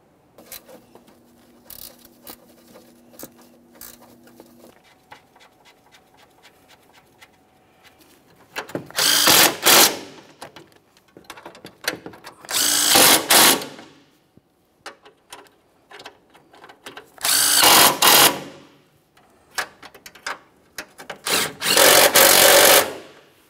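A power drill snugs down hardware on a 2015-2019 Subaru Outback 2.5L H4 during a spark plug job: quiet handling noises first, then four loud, separate bursts of whirring drill, each lasting about a second or two.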